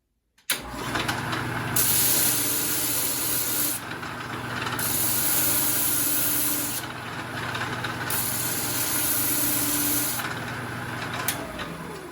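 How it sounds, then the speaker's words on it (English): A disc sander gives a quick sand to a small piece of wood. A steady loud whir swells into three longer grinding passes as the wood presses against the disc, with no voices. "I'll just give it a quick sand on my disc sander."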